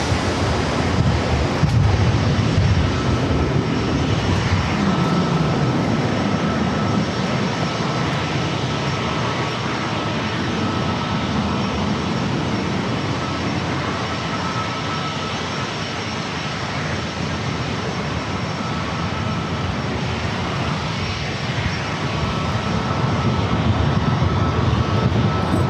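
A jet lands at San Diego airport on runway 27, a loud steady roar that holds for the whole stretch with wind buffeting the microphone, alone without talk.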